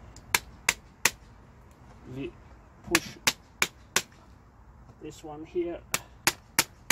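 Sharp taps of a small hammer on a front wheel part of an Emmaljunga Big Star Supreme stroller, about a dozen crisp knocks in uneven groups, close by, with brief speech between them.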